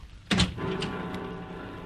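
A door opens with one close latch clunk and a brief rattle, followed by a steady low hum that carries on to the end.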